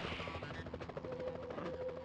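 Police helicopter in a Spider-Man video game, its steady rotor thrum mixed with dense game action and gunfire-like bursts, continuous and loud throughout with no talking.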